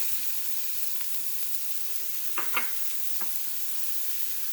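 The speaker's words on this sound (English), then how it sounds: "let me start sauteing those vegetables" Celery and other vegetables sautéing in an Instant Pot, a soft steady sizzle with a few brief scrapes and clacks from stirring, fairly faint and without voices.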